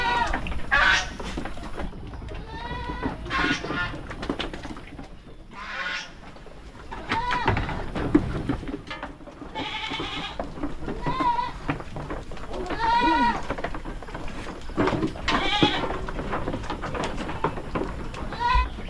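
Goats bleat repeatedly on a farm with pigs, loud and close, wavering cries coming every second or two for the whole stretch, with faint background noise between calls.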